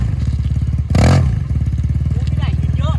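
Yamaha TMAX 530 scooter, 2016 model, pulls away hard from a standstill with a loud, close burst of engine roar around the one-second mark, then settles into a rumbling idle while someone talks over it.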